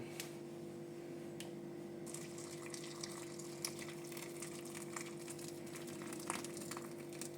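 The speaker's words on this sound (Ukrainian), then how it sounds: "Изюм мы заливаем кипяченой водой." Boiled water poured over raisins for a carrot cake batter, a steady continuous liquid rush with a low hum underneath, moderately close and without talk.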